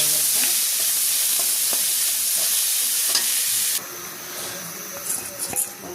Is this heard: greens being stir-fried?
yes